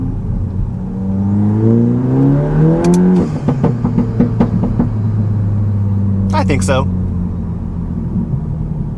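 Stage 2 tuned Volkswagen MK8 GTI engine and exhaust revving up with a rising, throaty drone, then dropping to a steady low rumble with crackles, close and loud, with a brief voice near the end.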